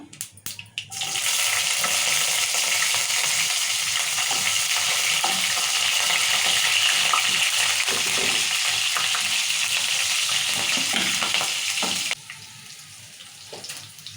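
Green chillies frying for upma in a pan, a loud steady sizzle that starts abruptly after a second and runs unbroken for about eleven seconds before dropping to a quieter crackle.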